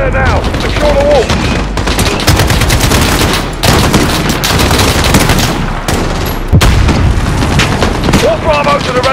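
Heavy gunfire fills a Call of Duty: Modern Warfare 3 battle, loud bursts and booming shots crackling in rapid clusters with brief gaps, while voices shout over the shooting.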